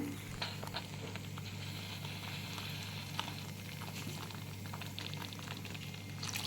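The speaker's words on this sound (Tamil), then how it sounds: "புளி தண்ணி எல்லாத்தையும் சேர்த்துட்டேன்" A pot of mango and ladies finger vathal kuzhambu with tamarind water added bubbles and simmers quietly, with soft liquid pattering and small pops at close range, no talking.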